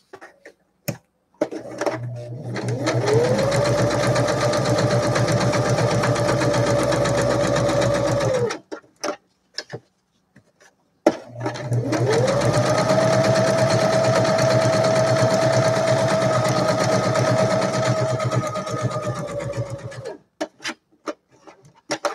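A simple sewing machine stitching a paper and lace journal, running steadily in two long bursts of about seven and nine seconds, loud and close with a whirring hum and a brief pause between.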